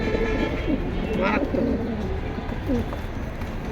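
Khaki military pigeons coo softly in short low calls under a busy, noisy bird market background.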